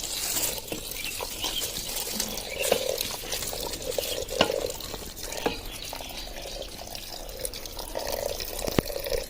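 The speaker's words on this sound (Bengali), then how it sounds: "এবার আমি জলটা দিয়ে দিচ্ছি" Water is poured into a pot of khichuri cooking on a clay stove, giving a soft, continuous splashing and trickling with small drips and clinks, fairly quiet and close.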